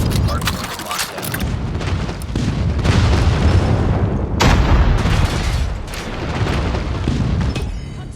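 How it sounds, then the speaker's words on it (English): Airstrike explosions in the mobile shooter Call of Duty Mobile, a loud barrage of deep booms and rattling blasts rolling on for several seconds, mixed with gunfire in a busy multiplayer match. "Friendly airstrike incoming."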